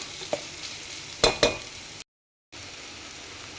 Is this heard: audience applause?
no